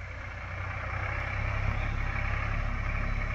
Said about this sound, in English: Hear the tractor coming